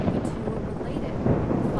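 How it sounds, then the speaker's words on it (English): Loud thunder rolls through a scene in the video game Nancy Drew: Midnight in Salem, a deep continuous rumble that fills the whole stretch, swelling slightly near the end. "Loud thunder. It's louder than their conversation."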